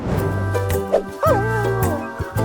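A small dog gives a few short yips and whimpers over a cartoonish musical backing, close and clear, with no talking.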